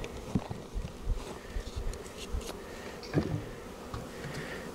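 Honey bees at a 2019-queen beehive fitted with an Apivar strip, a faint, steady close buzzing hum broken by a few soft knocks.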